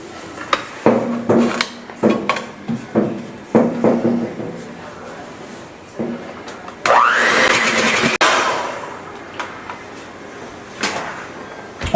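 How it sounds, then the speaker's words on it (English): Brown sugar and butter being mixed in a bowl for oatmeal chocolate chip cookie dough, with close utensil knocks and scrapes at first, then a louder whirring burst in the middle, and a voice talking over parts of it. "All you got to do is get that sugar mixed up with the butter, like that"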